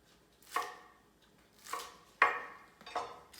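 A kitchen knife chops scallion on a cutting board with four separate, crisp strikes spaced about a second apart, close and clear against a quiet background.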